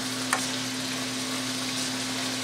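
Wild turkey and vegetables stir-frying in a pan give a steady, even sizzle over a low electrical hum, with one brief scrape near the start.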